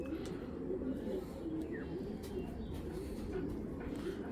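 Giribaz pigeons, an old pure-bred green male among them, coo in low steady murmurs throughout, with dense overlapping calls close by.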